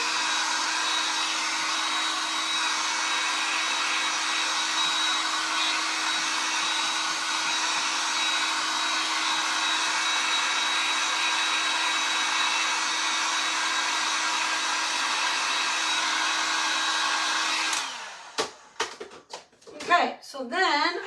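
A hair dryer runs steadily at close range, drying painted pieces of a DIY "Love Summer" sign, a loud continuous whoosh that stops near the end, after which handling noises and a voice follow.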